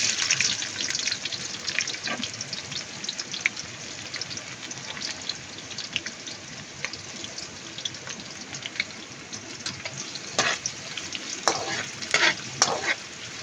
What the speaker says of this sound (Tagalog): Igisa lang natin to hanggang maging brown